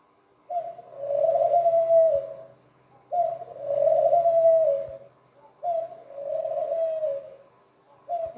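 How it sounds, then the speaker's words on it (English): Doves cooing in a radio play: three soft, drawn-out coos in slow succession, moderately near and alone with no talking. "Venus birds, billing in the woods all the long summer long."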